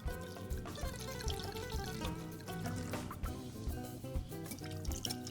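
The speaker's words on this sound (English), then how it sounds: "We're going to add about 2/3 of a cup of Assyrtiko wine." Assyrtiko wine is poured into a Greek mustard sauce, a faint, continuous trickling and splashing of liquid with small drips, quiet and unaccompanied by speech.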